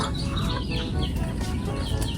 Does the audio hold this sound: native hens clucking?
yes